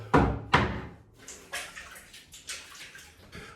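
Water splashed and dabbed onto a cake of old-fashioned shaving soap, a couple of loud near splashes followed by softer, irregular wet pats and swishes.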